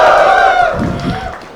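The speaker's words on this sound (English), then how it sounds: "Give me a cheer." A conference audience cheers and whoops together in a hall, a loud burst of voices that quickly fades.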